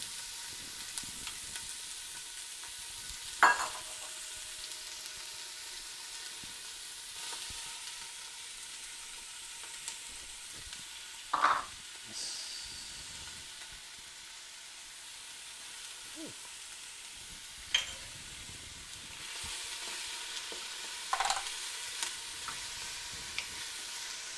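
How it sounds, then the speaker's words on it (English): Vegetables sauté in an Instant Pot with a soft, steady sizzle, broken every few seconds by brief clinks and scrapes of stirring, heard close with no talking. "Little sizzle. Never hurt nobody."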